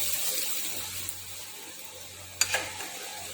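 Potato-stem cooking water is poured into a simmering curry, a soft close trickle and splash that briefly sharpens near the end over a low background hum; no talking.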